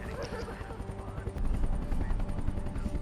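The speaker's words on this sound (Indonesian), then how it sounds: "mereka pun berhasil pergi dari sana menaiki helikopter" A helicopter's rotor chops steadily through a dense, loud wall of noise, with sharp bursts like gunfire mixed in and no pause.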